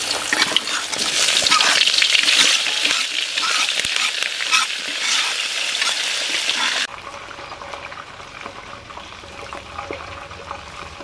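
Ginger frying in a pan for a duck rice-vermicelli dish, a dense, loud sizzle that runs steadily for about seven seconds, then drops to a quieter, duller background with a faint hum, with no talk.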